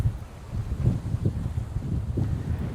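Strong wind buffets the microphone at Jaffna's Pannai beach, a steady low roaring rumble with repeated gusty surges throughout and no talking.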